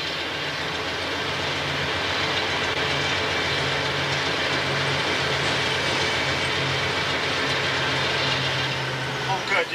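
A CSX train rolls past in Georgia, a steady, loud continuous rumble with a low droning engine tone and faint wheel clatter that holds evenly for about ten seconds, with no talk over it.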